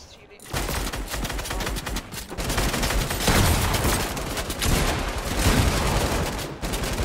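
Rapid, dense gunfire from the Fortnite video game crackles nearly nonstop in close bursts of overlapping shots, with players talking faintly underneath.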